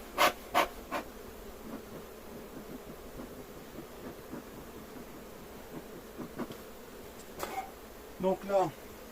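Honey bees buzz during the transfer of a small nucleus hive into a full hive, a faint steady drone with a few louder close passes at the start and end, under quiet handling noises.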